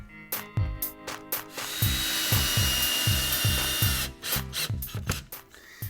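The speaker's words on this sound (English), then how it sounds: "run a couple screws into it" A power drill drives screws into wood blocking held behind old drywall during a patch repair, with a rhythmic ratcheting whir between short trigger bursts, loud and close.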